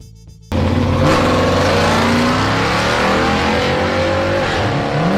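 A 1968 Chevrolet COPO Nova muscle car engine bursts into a loud, sustained rev after a brief quiet start, its pitch climbing and holding as it roars close by.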